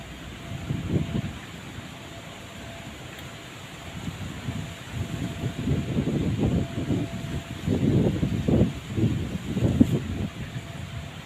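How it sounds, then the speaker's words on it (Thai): Strong wind gusts during a rainstorm buffet the microphone in rising and falling roars, building through the clip, with a faint steady hum underneath. "ลมแรง"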